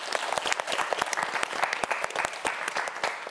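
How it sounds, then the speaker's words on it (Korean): A studio audience on a televised student science quiz show gives a quiz contestant a lively round of applause, with crisp individual claps close by and no talking over them. "여러분 박수 한번 보내주세요"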